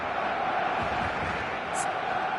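Steady roar of a stadium crowd at a football match in the eFootball video game, a constant, dense wash of massed voices that holds level for the whole stretch with no single voice standing out.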